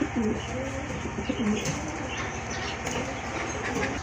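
A pair of pigeons coos steadily up close in a busy market setting, low rolling calls repeating under a constant background hum, with no talk.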